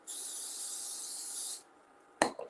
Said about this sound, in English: I'll give them a little spray, completely optional.